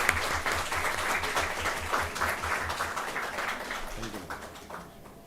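A crowd at a career guidance event applauds steadily, dense rapid clapping that fades toward the end.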